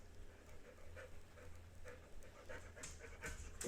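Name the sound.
dog panting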